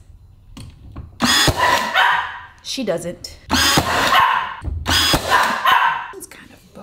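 A small indoor dog barks in several loud bursts during a home renovation session, overlapping with a woman's speech and sharp clatter from power-tool work.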